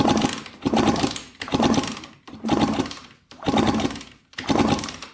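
A Kawasaki KX125 two-stroke dirt bike engine runs in steady, pulsing bursts, revving up and easing off roughly once per second, loud and close with no talking.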